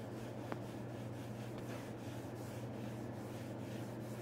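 Abrasive cleaner is rubbed into a leather seat from a Squarebody Chevrolet C10/K10 truck, giving a close, steady scrubbing and scuffing sound with a low hum underneath.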